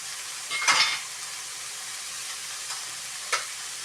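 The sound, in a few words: squash added to shrimp sautéing in a pan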